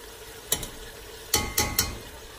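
Mutton and golden-brown onions fry in a pan for aloo gosht: a continuous low sizzle broken by four or so sharp scraping stir strokes, one early and a quick cluster of three later, close and clear with no talk.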